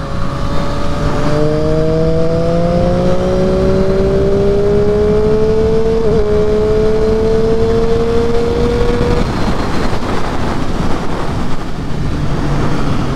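A Triumph Street Triple 765 RS motorcycle engine rises steadily through the revs while riding, a loud close whine climbing over several seconds before easing off, with wind rush throughout.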